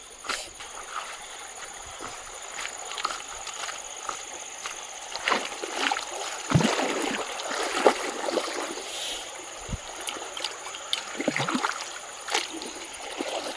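Fresh water is drawn from a stream at a night campsite, with irregular splashing and scooping over a steady, soft flow of running water.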